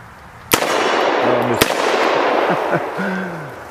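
Two sharp, loud shots from a Chiappa Rhino .357 Magnum revolver fired at a 2-liter bottle outdoors, a second apart, each a crisp crack with echo, followed by people talking.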